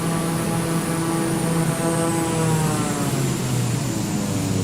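A simulated propeller aircraft engine in Flight Simulator 2020 drones loudly and steadily, heard close to the exhaust, with shifting harmonic tones as the pitch slowly drifts.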